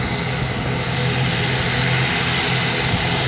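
A Wings Air ATR 72-600 turboprop taxis toward the runway, its propeller engines producing a loud, steady, continuous drone and whine close by.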